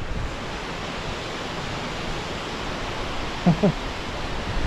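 Water rushes steadily and evenly at Pityak Falls, a dense, continuous wash close by, with a brief faint knock or voice-like blip partway through.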